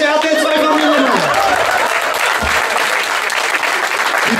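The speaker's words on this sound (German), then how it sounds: "Applaus für diese RTL2-Familie." Audience applause at a German stand-up comedy show, loud and steady dense clapping from a crowd filling the whole stretch, with a voice briefly heard through it early on.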